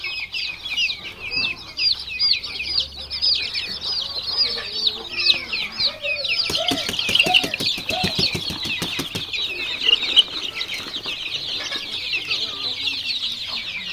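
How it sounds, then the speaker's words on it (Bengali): Chickens and chicks at a Bangladeshi poultry market, including layer, local desi and farm Misri birds, give dense continuous high chirping and peeping with scattered lower clucks and wing flaps, close and busy throughout. "এখানে বেশ কিছু নিউ অ্যাডাল মুরগি রয়েছে, লেয়ার,"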